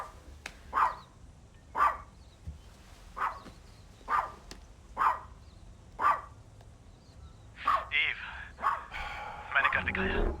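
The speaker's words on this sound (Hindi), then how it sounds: "भौंकना बंद करो" A dog barks repeatedly in a steady rhythm, about a bark per second, then the barks grow quicker and more excited toward the end.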